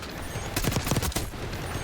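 A submachine gun fires a rapid burst in Call of Duty, a quick string of punchy shots packed into under a second and set against a steady game background.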